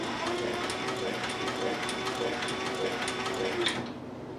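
A sewing machine stitches a leather long hunter's bag, its mechanism clattering in a fast, even rhythm up close before the stitching stops near the end.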